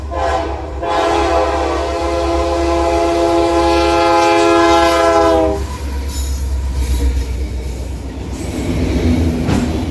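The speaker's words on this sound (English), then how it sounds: "catch NS 286 with UP 6748 leading the eastbound intermodal train" An eastbound Norfolk Southern intermodal freight train led by Union Pacific locomotive 6748 rumbles past loudly as its horn blares one long sustained blast, then fades, leaving heavy rolling wheel noise and rattling cars.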